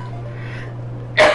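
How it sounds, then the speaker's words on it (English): A smoker's cough erupts as a single loud, harsh burst near the end, after a stretch of quiet background hum during a couch gaming session. "Sounds like a smoker's cough."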